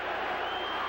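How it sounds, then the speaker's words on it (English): A football stadium crowd at a 1984 St. Louis Cardinals game cheers in a brief, steady wash of loud, distant roar with no clear voices on top. "Crowd on its feet."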